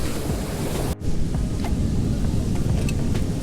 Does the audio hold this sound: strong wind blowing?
yes